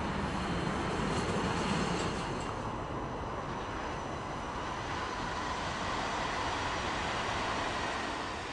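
Green DB class E40 electric locomotive E40 128, restored to its late-1950s delivery condition, shunting at the DB Museum in Koblenz: a steady broadband rumble of rolling rail traffic with a faint high whine, continuous and fairly close, no talk.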